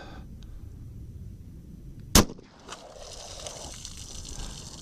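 A single sharp gunshot from a 10mm handgun with a 6-inch barrel firing 200-grain HST rounds, loud and abrupt over outdoor background noise, followed by a brief faint thump.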